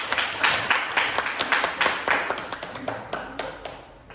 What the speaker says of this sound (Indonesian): Mari kita beri tepuk tangan untuk kita semua.